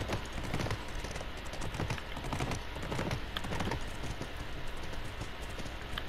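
Horse hooves clip-clop steadily in The Last of Us, a continuous run of close, fairly loud hoofbeats at a quick trotting rhythm, with no talking over them.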